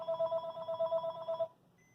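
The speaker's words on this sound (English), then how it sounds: "And of course the phone's going to ring now" A telephone in a repair shop rings once, a steady warbling electronic tone about a second and a half long that then stops, clear and fairly close.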